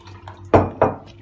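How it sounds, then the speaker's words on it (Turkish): Water added over kneaded lemons in a bowl lands in two short, close splashes about a quarter second apart, with faint clinks and drips between them. "Şimdi üzerine biraz su ilave ediyorum."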